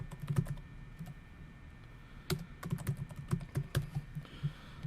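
A password is typed on a computer keyboard: a soft, irregular run of quiet key clicks over several seconds.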